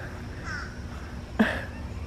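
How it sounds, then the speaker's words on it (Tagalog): A single harsh, crow-like caw bursts out from an agitated bird near a backyard apple tree, loud and abrupt against a quiet background hum, with no talking. "At merong ibon doon na galit."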